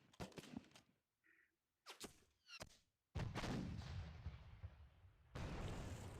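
World War I artillery in a strategy game set at the 1914 Battle of Dinant in France fires several sharp booms, then gives way to a long, heavy rolling rumble. The whole scene is faint.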